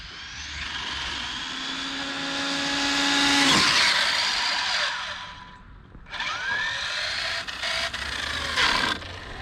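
A Hong Nor X3-GTSe electric RC car runs with a high motor whine that climbs in pitch under full throttle, peaks loud and close, drops away, then rises again with rough bumps.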